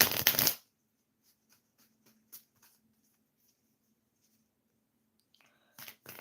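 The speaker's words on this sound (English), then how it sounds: "Let's shuffle some cards here." Tarot cards are shuffled by hand in a quiet room: a brief, loud riffling burst at the start, faint scattered taps and card slides, then another short shuffle at the end.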